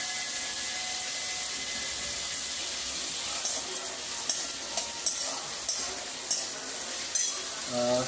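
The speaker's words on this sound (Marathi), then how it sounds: "आता तुपामध्ये आपण बटाटे टाकून घ्यायचे." Raw cut potatoes dropped into hot ghee in a wok give a steady low sizzle, with several sharp clinks from a spoon or spatula stirring near the end.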